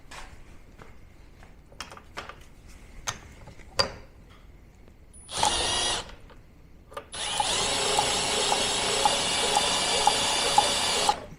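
Spark test on a 1948 Scott-Atwater 3.6 hp outboard: after a few scattered clicks, a loud mechanical buzz spins briefly, then runs steadily for about four seconds, close and with no talking.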